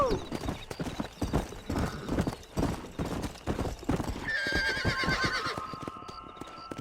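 A horse in Red Dead Redemption gallops with rapid, steady hoofbeats and gives a loud whinny near the end, under game music and a voice calling out.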